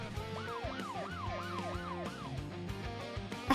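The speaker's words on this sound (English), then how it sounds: "A siren draws closer." A wailing siren in the NIKKE game sweeps up and down about half a dozen times over a busy music-like backdrop, drawing nearer before fading.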